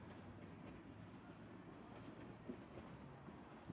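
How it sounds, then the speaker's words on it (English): Train passing close to a house in the countryside, a steady rumbling wash of rail noise with faint clickety-clack, continuous and fairly loud throughout, with no voices. "They look dirty because I live next to a freaking train."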